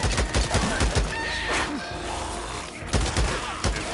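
Gunshots in the survival game Days Gone: a rapid string of sharp, loud shots up front, a brief lull, then a few more heavy cracks close by.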